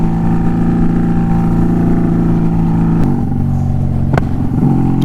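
A motorcycle engine runs steadily at close range while riding, holding a constant drone with pitch shifts near three and four seconds as revs change, with no speech over it.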